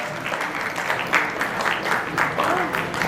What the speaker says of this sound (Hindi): कृपया जोरदार तालियों के साथ